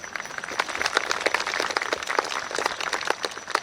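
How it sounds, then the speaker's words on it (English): A graduation-ceremony audience at a school applauds with dense, steady clapping that runs throughout, moderately loud and fairly close, with no talk over it. "Let's have a huge round of applause to appreciate how hard they've all worked."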